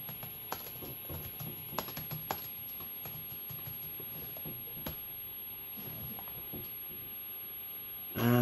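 Scattered keystrokes tapped on a Tangerine iBook G3 laptop keyboard during system setup, faint clicks over a quiet room hum with an electronic whine, ending in a louder burst.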